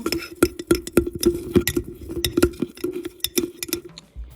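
A mixture is stirred briskly inside a large glass jar, with rapid, repeated clinks and ringing taps of the utensil against the glass in an uneven rhythm, close and fairly loud.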